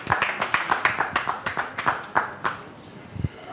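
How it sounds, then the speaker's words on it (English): Studio audience applause during a game-show caretaker task, a steady burst of clapping hands over several seconds with fairly close, dense claps that thin out toward the end. "Please give him a round of applause."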